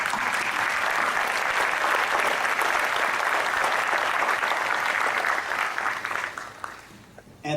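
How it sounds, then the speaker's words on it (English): Banquet audience at an alumni spring reunion applauding themselves, a full, sustained round of clapping across the room that holds steady, then thins and fades toward the end. "would you please give yourselves and those around you a round of applause?"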